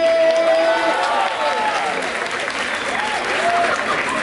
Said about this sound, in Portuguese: muito, muito barulho para Riange e Depoy